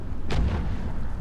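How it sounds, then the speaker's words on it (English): Missiles exploding on impact in the EVE Echoes space video game, a single deep booming blast with a sharp crack over a steady low rumble, loud and close. "there's so many missiles flying that by the time the missiles"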